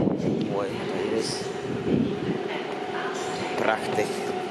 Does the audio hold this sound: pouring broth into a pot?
no